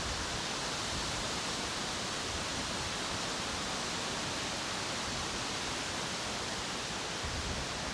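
Wind gusts across open lake water beside a wooded trail, a faint, steady broadband rush that holds evenly for the whole stretch with no other sounds.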